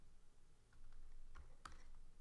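Quiet typing on a computer keyboard while editing in Logic Pro X, a few soft, sparse key clicks with one sharper tap, close by and alone.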